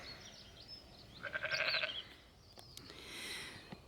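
Lambs bleat in a mountain field in spring, one clear quavering cry in the middle followed by a fainter one, over a quiet outdoor hush.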